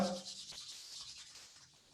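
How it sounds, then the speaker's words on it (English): Palms rubbing quickly together, giving a close, soft continuous rustling friction that fades slightly toward the end, with no voice. "Rub your palms. Create a heat between your palms. Rub faster."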